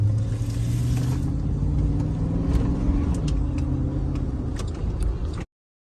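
A car passing, with a steady low engine drone and rumble that builds and holds before cutting off abruptly, heard without speech.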